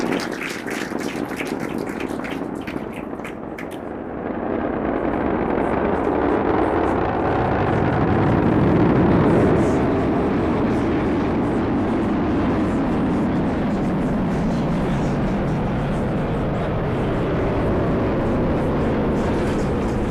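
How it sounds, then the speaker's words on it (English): A SpaceX Falcon 9 carrying the Athena lunar lander lifts off from pad 39A with a deep, swelling rumbling roar that builds to a peak and then holds as a broad, distant thunder. "Falcon 9, carrying IM-2's lunar lander Athena, has successfully lifted off of pad 39A"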